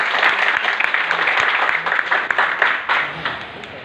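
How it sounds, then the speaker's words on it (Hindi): A crowd applauding steadily and loudly for a few seconds, dense clapping filling the room without pause. "जिनका भी जो अपलाइन है उनके लिए एक बार जोरदार ताली आप लोग बजाइए"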